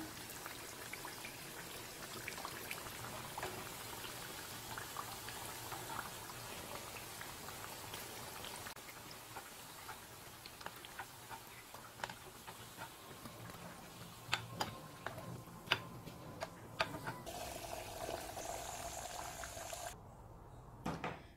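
Sugar syrup boiling in a pan while making sweet moong dal jamun, a dense, steady bubbling and popping with scattered sharp ticks throughout, close and moderately loud, with no talking.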